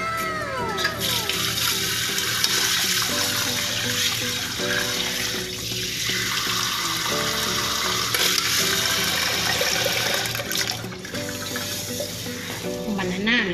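Water pours into a cooking pot of tinola chicken with mung beans, a continuous rushing splash heard under background music, with a few faint voices.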